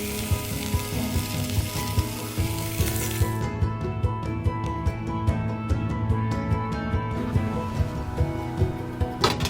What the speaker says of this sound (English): Give the meatballs a good brown.